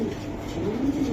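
A racing pigeon coos softly and steadily, its low, throaty murmur carrying through the whole short stretch at close range.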